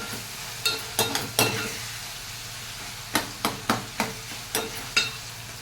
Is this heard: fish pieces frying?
yes